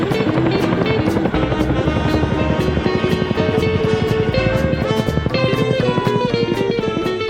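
A helicopter's rotor chops in a fast, steady rhythm with a whining turbine tone, loud and close throughout.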